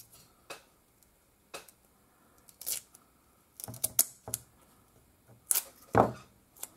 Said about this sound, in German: So, ein bisschen Klebeband da drauf.